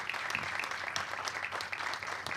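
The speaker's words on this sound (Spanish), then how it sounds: "Te recibimos con este aplauso." A crowd applauds steadily, a dense patter of many hands clapping at moderate distance, sustained throughout.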